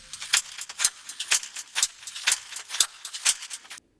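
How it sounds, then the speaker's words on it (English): A Mechanical Metropolis Digitakt percussion loop at 123 BPM, made of bright metallic jangling and rattling hits in a regular rhythmic pattern, crisp and close, stopping sharply at the end. "Then we have some percussion loops coming up."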